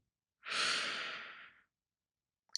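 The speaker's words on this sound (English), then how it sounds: "When you're ready, take a deep breath in" A single long, close breath, a steady airy rush that swells quickly and fades over about a second, followed by a tiny catch of breath in near silence.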